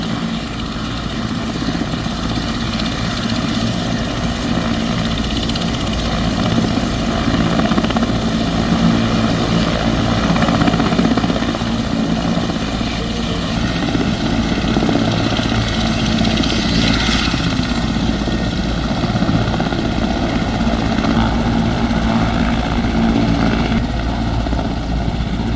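Helicopter of Lao leaders at the Salavan airfield, a steady close rotor and engine drone with dense low thumping held at constant loudness throughout, no voices.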